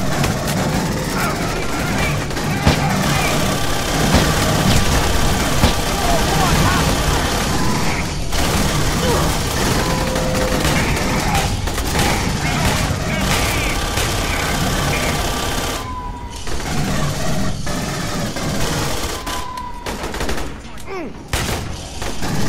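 Bursts of rapid gunfire and scattered shots crackle through a busy, noisy scene in the video game Aliens: Colonial Marines, with mechanical clatter and voices in the background.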